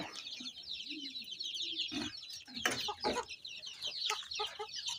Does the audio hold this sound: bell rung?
no